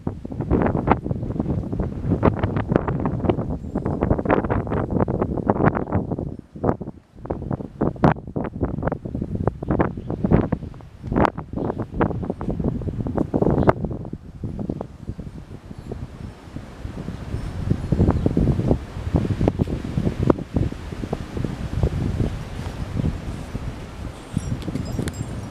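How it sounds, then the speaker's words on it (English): Outdoor wind buffets a Canon camera's microphone among trees, producing loud, gusty low rumbles and crackling bursts that rise and fall irregularly throughout, with calmer breathy stretches between gusts. "There's some good wind noise right now."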